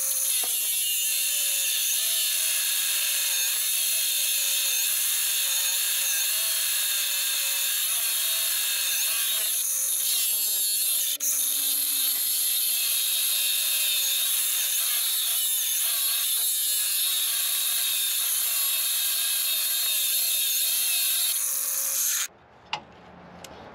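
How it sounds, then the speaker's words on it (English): A die grinder cuts through a bolt on a Envoy rebuild, a steady high-pitched whine with grinding rasp lasting over twenty seconds, close up, then abruptly stopping. "So I opted for the die grinder."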